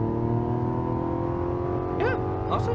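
A 2025 Mazda CX-70 with a turbocharged inline-six accelerates in sport mode, its engine a steady, droning hum heard from inside the cabin, and a voice speaks briefly near the end.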